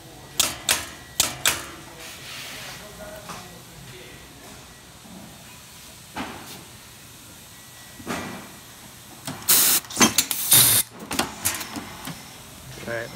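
A bottle cap dispenser machine runs with a faint hiss while its micro switch and mechanism produce sharp irregular clicks, some in quick clusters, others spaced out, growing busier toward the end.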